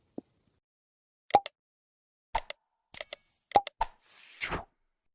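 Notification bell sound effect with a series of short bright chimes and dings in quick bursts, ending in a brief swishing whoosh, loud and alone over silence.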